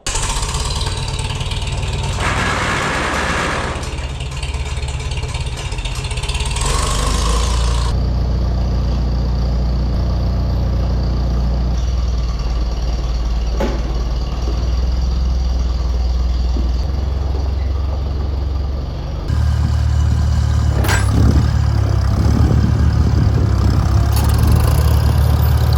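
A corn head harvester engine runs steadily up close, a loud continuous low rumble that shifts in tone partway through and surges louder near the end.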